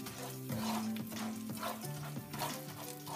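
Popcorn kernels get stirred into bubbling toffee in a pan, a steady close sizzle with scraping stirring strokes and a sustained tone underneath.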